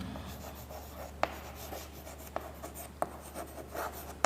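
Pen or marker writing code on a board during a programming lecture, soft close scratching strokes broken by several sharp taps as it meets the surface, over a low steady hum.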